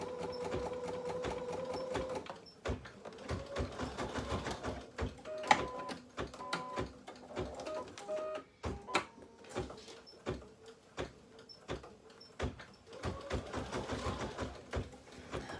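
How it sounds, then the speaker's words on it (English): Sewing machine running a straight stitch on embroidery, a fast steady mechanical whirr in bursts broken by short pauses and clicks, close and moderately loud, with no talk. "I'm just going to do a straight stitch. right on that line that I have marked."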